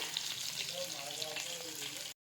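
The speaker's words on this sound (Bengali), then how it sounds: "রাতে খাবার জন্য করছি মাছ ভাজা" Continuous hissing sizzle of fish frying in a pan, close and moderately loud, ending abruptly.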